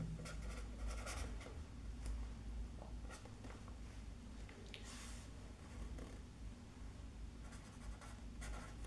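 Faint scratchy strokes of a pen or marker writing on a board during a lesson on Boolean expressions, with short bursts of scribbling and brief pauses, quiet against a low room hum.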